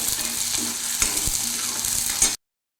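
Onions fry in hot oil with a steady close sizzle, broken by a few light clinks of stirring, before the sound cuts off abruptly.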